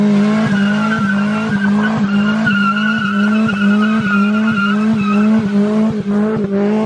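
Car skidding with a sustained, loud tire squeal close by, pulsing in a rapid regular rhythm as the tires judder for several seconds without letup.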